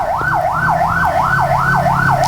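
An ambulance siren sounds at the scene of a collapsed two-storey prayer house in Ciomas, Bogor, a loud, steady rising-and-falling wail that repeats about twice a second with no voices over it.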